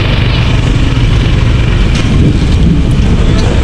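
Light drizzle falling outdoors, a steady loud wash of broadband hiss with possible wind buffeting on the microphone, continuous with no talking.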